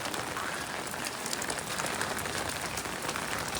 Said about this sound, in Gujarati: વરસાદ ચાલુ થયો